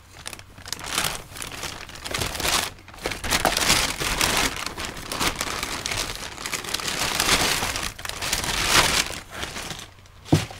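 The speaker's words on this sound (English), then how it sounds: "I'm sorry for the obnoxious um, loud crinkle noise." Loud, continuous crinkling of a plastic bag, rustling and crackling with uneven bursts throughout, close up and alone.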